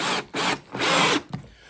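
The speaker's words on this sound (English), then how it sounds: "trusty drill bit" A power drill bores into wood while building a fairground high striker game, giving two close, loud bursts of whirring, the second longer, before the motor winds down.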